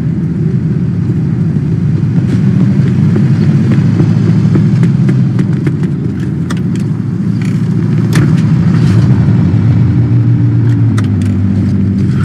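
A car engine in the video game Mafia 2 drones steadily throughout, a low continuous rumble with faint clicks and rattles.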